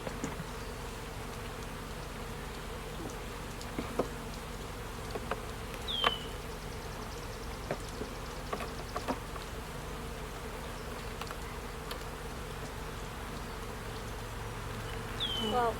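Honey bees buzz steadily around an opened backyard hive during a full spring inspection, a dense continuous hum with occasional louder fly-bys close by and no talking.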